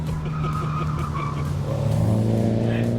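Mini race car accelerating on a track, a loud strained engine drone rising through the revs with a shift in pitch partway, close and continuous, with some tire noise.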